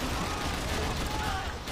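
A hail of gunfire in the shooter game Max Payne 3 makes a dense, continuous roar of shots and noise throughout, steady and loud with no clear gaps.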